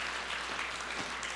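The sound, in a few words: congregation applause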